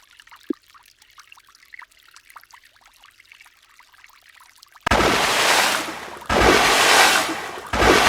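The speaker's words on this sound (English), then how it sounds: "Wash 6 heads of lettuce in water and place them in the empty bowl on the left." Lettuce heads are washed in water for a sandwich in a cooking activity: quiet faint clicks and rustling at first, then loud gushing, pouring water in two long bursts separated by a brief pause.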